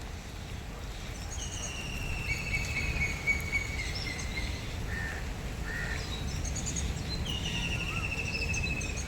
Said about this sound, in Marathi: पक्षी ओरडत आहेत